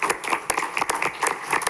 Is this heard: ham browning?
no